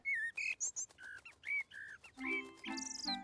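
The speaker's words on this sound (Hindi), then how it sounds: "देखो साइमन, वो चिड़िया हमें थैंक्स बोल रही है।" Cartoon bird chirping and whistling a thank-you, a quick series of bright, sliding tweets close by with no talk.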